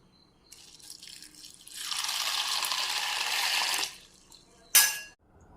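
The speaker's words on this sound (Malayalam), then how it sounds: "ഇനി ഇതിലേക്ക് വെള്ളം ഒഴിച്ച് സോക്ക് ചെയ്യാൻ വയ്ക്കണം" Water poured from a tap into a bowl holding one cup of green gram (moong dal) for soaking, a steady splashing stream for about two seconds, then a brief sharp splash as it stops.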